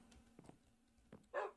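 In Minecraft, a pet dog gives a few short, quiet yips and whimpers that end in one slightly louder bark, all within a second and a half.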